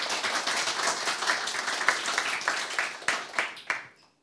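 An audience at a debate applauds the participants with a dense, even burst of clapping that thins into a few last claps and fades out.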